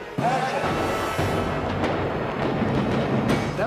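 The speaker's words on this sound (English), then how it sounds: "That was a nice explosion." A film-set pyrotechnic explosion fired from a striker board during a stunt run goes off as a sharp, loud burst that leads into a dense, rumbling roar and sustained crackling debris noise for several seconds.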